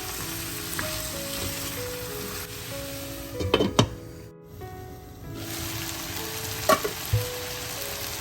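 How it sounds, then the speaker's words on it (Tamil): Potato and tomato pieces sautéing in a pan for a mushroom curry, a constant close sizzle broken by a few sharp stirring scrapes and clinks. "சேர்த்துட்டு எல்லாத்தையும் நல்லா ஒரு 2 நிமிஷம் வதங்க விடுவோம்"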